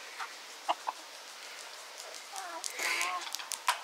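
Chickens cluck in short scattered bursts, with a louder fowl call near the end, somewhat distant against a quiet background.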